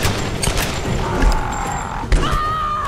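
Tomb Raider video game gunfire, a rapid volley of sharp shots and thuds over a busy, loud background of game sound.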